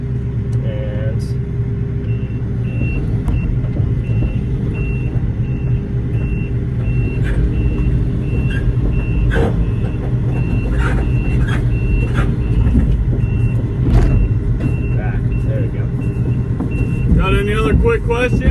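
Reversing beeps pulse steadily over a loud, constant engine rumble from an excavator on a house demolition site, with people talking throughout.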